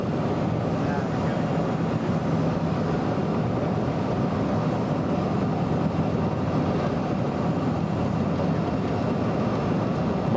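Airliner cabin on a 1987 approach into Austin Mueller airport, a steady broadband engine and airflow roar filling the cabin, constant and loud with no distinct events.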